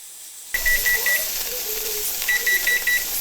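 A pressure canner's kitchen timer beeps in two quick bursts of short repeated tones during beef canning, loud and close over a steady steamy hiss, with no talking.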